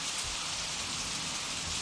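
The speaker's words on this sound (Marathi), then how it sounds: "गाडीत आता फक्त पावसांच्या धारांचा आवाज येत असतो" Heavy rain pours steadily onto a parked car, a dense, continuous hiss and drumming heard from inside the vehicle, loud and unbroken with no voices.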